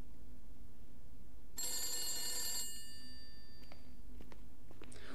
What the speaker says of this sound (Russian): наверное, звонят с работы